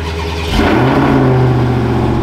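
A Dodge Hellcat engine revs loudly at close range, with a deep, rumbling idle that swells into a strong throttle blip and holds a raised, throaty drone, with no talking.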